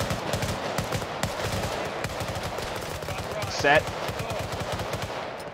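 Rapid bursts of automatic gunfire in a combat video game, repeating steadily throughout with a louder burst near the end, while voices speak briefly over it.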